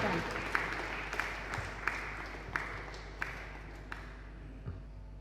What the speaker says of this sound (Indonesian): Mari Bapak Ibu kita sambut dengan tepuk tangan kepada Ibu